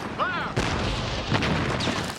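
Sharp blasts and crackling bangs of staged explosions and musket fire burst out amid a dense, noisy wash of battle sounds, with a whistling streak early on.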